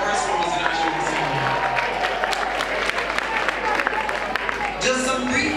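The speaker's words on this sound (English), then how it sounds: "So give a round of applause to all our first performers in our show this evening." Audience applause at a Jingle Jam show for first-time performers, a sustained wash of clapping with some cheers and chatter running under it.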